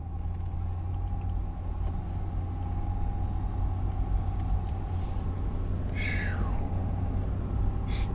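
A truck rolls through a deep flooded intersection during Hurricane Milton in Daytona Beach, a steady low engine rumble with a brief hissing swish of water partway through, heard from a moderate distance without voices.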